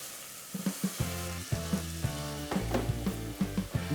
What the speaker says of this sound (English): Gently sweat the onions over medium heat without letting them brown.